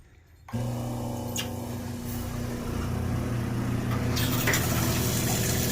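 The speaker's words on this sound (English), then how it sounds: "Alright, so that works. That's my cold water." Cold water runs from the tap of a food truck, starting abruptly after a quiet moment and continuing as a steady hiss and gush, with a faint pump-like hum underneath.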